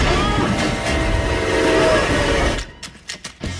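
A train rumbles past close by with a steady roar, then cuts away abruptly to a few scattered clanks and knocks.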